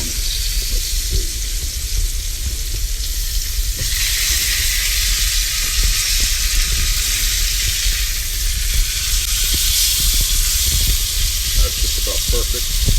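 A medium steak sizzling on a hot iron gives a steady, loud, close frying hiss with small crackles and pops throughout, and a quiet voice comes in faintly beneath it.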